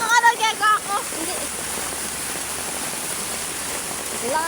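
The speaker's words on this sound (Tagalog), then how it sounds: "Ang lakas na guys ng ulan." Heavy rain pours down during a typhoon, a dense continuous hiss that stays loud throughout, with people talking briefly at the start and end.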